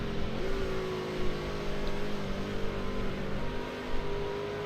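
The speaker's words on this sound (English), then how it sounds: "Listen how late he leaves the downshift." Race truck engine in the iRacing sim at Gateway, a steady droning whine held near-constant with a slight pitch shift early on, no clear downshift blips, moderately loud and alone.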